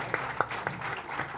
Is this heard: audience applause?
yes